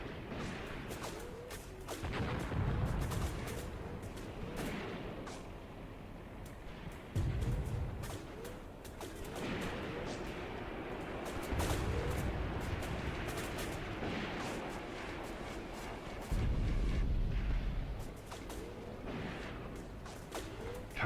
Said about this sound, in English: Jesus Christ, I'm putting down a lot of fire